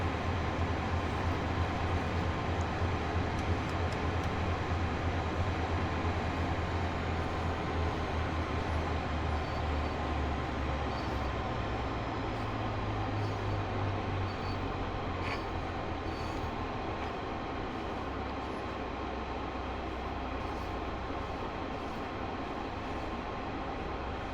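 A Class 150/2 diesel multiple unit in Train Sim World 2 runs along single track on the West Cornwall route toward Probus. Its steady, close rumble and wheel noise drone continuously, with occasional faint squeals.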